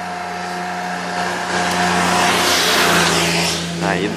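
A self-defense patrol vehicle drives past at an estate, its engine hum swelling and fading over a few seconds, with some voices faintly underneath.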